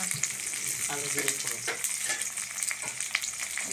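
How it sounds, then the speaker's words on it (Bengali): Prawns frying with onion, green chillies and taro greens in a pan, a dense close sizzle with repeated stirring and scraping strokes, no voices. "এরপরে অ্যাড করা হচ্ছে চিংড়ি মাছ চিংড়ি মাছ দিয়ে আর পেঁয়াজ দিয়ে কচু শাক রান্না"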